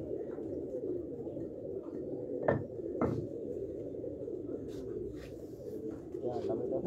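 Sialkoti breeder pigeons coo in low, steady murmuring under a voice, with a couple of brief clinks and knocks from the loft along the way.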